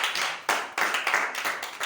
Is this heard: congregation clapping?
yes